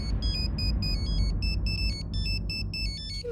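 A mobile phone ringtone for an incoming call sounds over a low ambient rumble: a repeating electronic melody of short high beeping tones in a steady pattern, fairly clear and continuous, with no talking.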